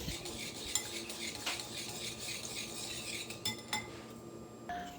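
A spoon works through thick flour batter for crispy chicken strips in a bowl, giving steady close scraping and soft clinks against the sides with no talking.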